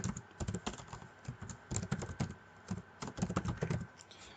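Name and email being typed on a computer keyboard, a close, busy run of light key clicks in quick irregular bursts with short pauses, no talking.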